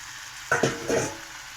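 Pumpkin and jackfruit seeds with spices are stirred in a frying pan: a few scraping spoon strokes over a low sizzle, loud at first and then softening, with no talk.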